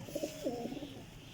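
A Sialkoti pigeon coos nearby, giving a short series of soft, low rolling coo notes against a quiet outdoor background.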